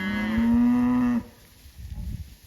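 A fat, slick beef cow in a July pasture lets out one loud, long, rising moo for over a second, then quieter field ambience with faint low rustling follows.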